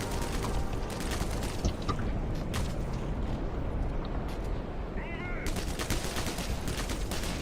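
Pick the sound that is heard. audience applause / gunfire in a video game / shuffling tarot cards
gunfire in a video game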